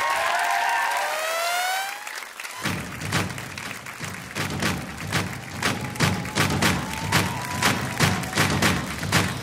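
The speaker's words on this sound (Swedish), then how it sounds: "Ge en varm applåd till Mian Lodalen!" A studio audience at a Swedish talk show claps for the guest, the author Mian Lodalen, with loud, steady clapping and rhythmic thuds that start abruptly after a brief sweeping tonal sound.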